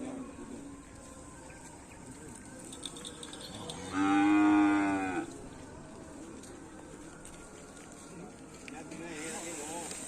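A single loud cow moo about a second long, rising out of quiet outdoor background noise.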